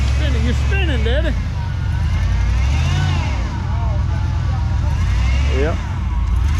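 A 1979 Chevrolet C10 truck pulls out with its tires spinning, a loud, steady low engine roar with rising whines running throughout, while people talk over it.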